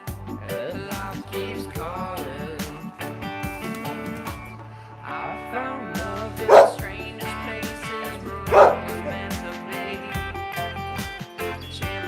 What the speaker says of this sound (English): Sorry, he's barking.